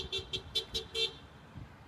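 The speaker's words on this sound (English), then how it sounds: "We getting horn honks as always." On a street during a roadside gathering, several short car horn toots sound in a rapid series of about five, fairly faint and distant, followed by quieter traffic.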